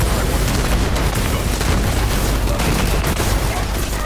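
Borderlands 3 combat: a grenade blast and sustained gunfire form a dense, loud, continuous barrage throughout, with heavy booms and rapid shots layered together.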